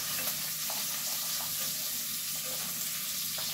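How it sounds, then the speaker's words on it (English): Onions and other vegetables fry in a pan on an old-fashioned home stove, a loud, close, steady sizzle with faint stirring clinks and no voices. "I don't know about them onions and stuff cooking in that"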